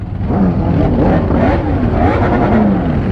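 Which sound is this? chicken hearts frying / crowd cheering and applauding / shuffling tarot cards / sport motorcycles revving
sport motorcycles revving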